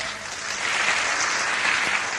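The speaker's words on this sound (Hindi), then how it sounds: "एक बार उनके लिए ताली चाहूंगा।" Warm applause from an audience at a business seminar, a thick continuous patter of many hands that grows slightly louder after the first half second and stays steady.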